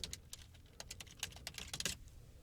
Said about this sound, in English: simply by typing it out.